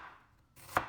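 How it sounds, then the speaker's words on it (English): A knife slices half an onion into strips on a cutting board, giving one crisp, close chop after a quiet pause, with no voices. "Take half of it and cut it into strips."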